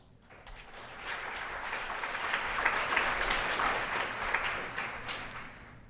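An audience at an RStudio conference talk claps to welcome a speaker, the applause swelling after a quiet start and holding steady for several seconds as a dense, fairly close wash of hand claps.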